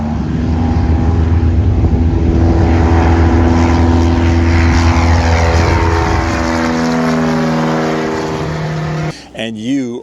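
A Carbon Cub light aircraft with a 180-horsepower engine runs at full throttle, a loud, steady propeller drone with harmonic engine tones that shift pitch partway through before cutting off sharply near the end.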